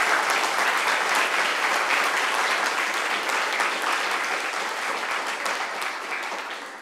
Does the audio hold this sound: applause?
yes